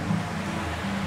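River water at the 7 Tubs nature area rushes in a steady, fairly loud churning flow, heard close for a brief moment with a low hum underneath.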